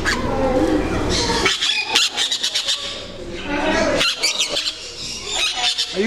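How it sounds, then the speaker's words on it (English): Parrots at a sanctuary in Pigeon Forge, Tennessee screech and chatter in loud bursts, mixed with people talking close by. "Such a pretty bird."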